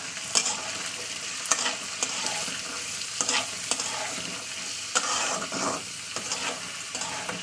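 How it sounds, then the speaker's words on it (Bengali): Potato pieces and dried peas fry in oil for ghugni, giving a constant crackling sizzle broken by repeated scraping stirs and spatula knocks against the pan. "এবার এটা তেলে ভালো করে ভাজা করে নেবো।"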